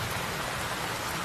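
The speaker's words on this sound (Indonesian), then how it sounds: "Ini hujan makin deras." Heavy rain pours down in a dense, steady roar with no breaks, loud and close throughout.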